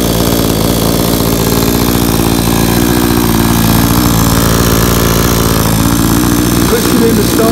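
A new Blue Max 22-inch 57cc gas chainsaw idles steadily on its first start, a loud, close two-stroke putter with a rapid, even firing rhythm that continues throughout without pause.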